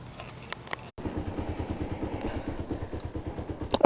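A 2007 Kawasaki Ninja motorcycle engine fires up after a short pause and settles into a steady, close, rhythmic idle with pulsing exhaust beats and mechanical clatter.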